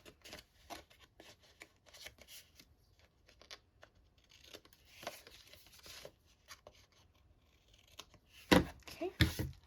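Scissors trimming the ends of card paper, a series of soft, sparse snips and paper rustles near the microphone, ending in a few louder crisp cuts.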